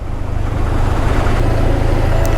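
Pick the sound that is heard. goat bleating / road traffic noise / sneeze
road traffic noise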